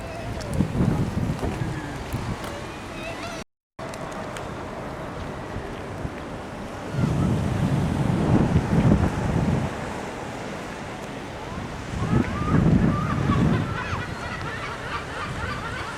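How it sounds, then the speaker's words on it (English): Cold wind buffets the microphone on a Scottish seafront beach, with the low rumble of surf swelling in several gusty surges and then easing. "There's just cold wind that's coming in from there."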